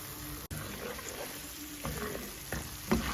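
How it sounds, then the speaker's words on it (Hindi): Garlic and ginger frying with onions in butter in a pan, a quiet continuous sizzle broken by several stirring scrapes, with no speech. "इसमें अब हम लहसुन अदरक डाल देंगे 2 चमचे और इसको अच्छे से इसको भी भून लेंगे।"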